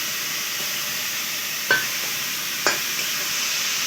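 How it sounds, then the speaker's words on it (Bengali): Grated, pre-fried papaya sizzles steadily in a pan for a vegetarian papaya dish, with two sharp scraping stirs breaking through the constant hiss. "গ্রেট করে ভেজে রাখা পেঁপেটা দিয়ে দেওয়া হচ্ছে"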